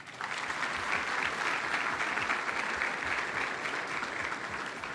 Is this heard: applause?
yes